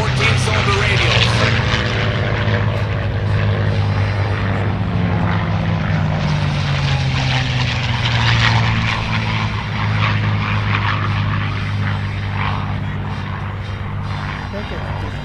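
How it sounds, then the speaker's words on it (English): A B-25J bomber with two Wright R2600 14-cylinder radial engines drones loudly and steadily at an airshow, its deep propeller rumble sliding slightly in pitch as it passes. "Aircraft is powered by two R2600 engines built by Wright. Large 14-cylinder radials."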